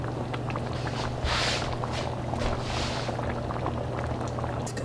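Black bean chicken chili simmering in a pot, giving a steady low bubbling with soft swelling hisses close by and no speech.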